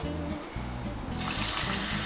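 Water pours steadily into a coffee urn or hot water urn while cooking jasmine rice, a continuous splashing stream that grows brighter and fuller partway through, with no talk.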